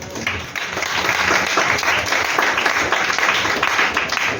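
A church congregation breaks into applause, a dense sustained clapping from many hands that rises and holds for several seconds at a moderate distance.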